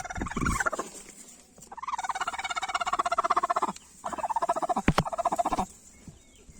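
A broody turkey hen gives rapid, rhythmic runs of close clucking and gobbling calls, loud and steady in bursts separated by short pauses, with a brief higher squawk at the start.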